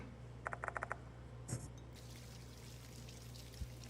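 Faint running water from a toilet in the horror game Spirit Hunter: Death Mark II: a soft trickle and brief splash follow a quick run of five light ticks, all quiet over a steady low hum, with no voices.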